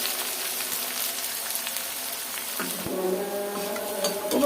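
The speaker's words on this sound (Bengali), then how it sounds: "রসুন কুচি, পেঁয়াজ কুচি দিয়ে দিলাম। এখন এগুলা হালকা ব্রাউন কালার করে" Chopped garlic and onion frying in a pan, a steady loud crackling sizzle throughout, with a faint tonal hum joining in the second half.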